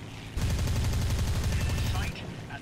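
Aircraft guns fire in the War Thunder flight game, a loud, dense burst of rapid automatic shots lasting nearly two seconds before cutting off, with game background noise around it.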